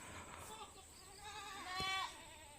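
Goats in a village bleat faintly at a distance, with one louder cry standing out briefly amid quiet outdoor ambience.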